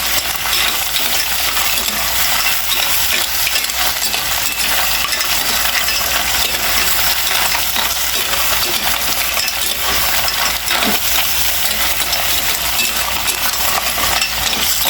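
Mussels (tahong) sauté in a pan with a loud, continuous hiss and crackle throughout, broken by occasional metallic clinks of shells or utensil against the pan, with no talking.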